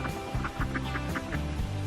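Ducks squabble noisily over stolen fishing bait at a vacation spot, with rapid, overlapping clucking calls in a busy rhythmic stream, close and fairly loud.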